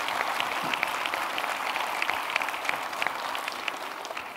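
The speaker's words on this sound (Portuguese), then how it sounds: "uma salva de palmas para vocês." Audience applauding at a live comedy show in Braga, a dense, steady wash of many hands clapping throughout, fairly loud and without talk.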